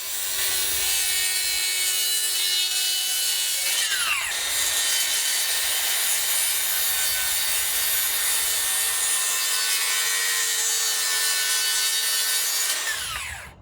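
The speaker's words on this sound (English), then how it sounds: "this time I'll cut them with the circular saw, just to show that it's easy enough to do it that way" A circular saw cuts tapered wooden legs for a patio table, two long loud whining passes through the wood, each winding down briefly at the cut's end.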